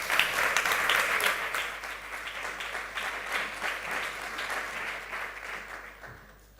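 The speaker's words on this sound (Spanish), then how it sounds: "Un aplauso, ministra." A conference audience applauding a labour minister, sustained clapping from many hands that gradually thins and fades out near the end.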